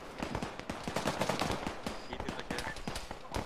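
Rapid, dense gunfire in a video game, crackling continuously, bursts of shots overlapping at a steady moderate volume.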